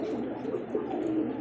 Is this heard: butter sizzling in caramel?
no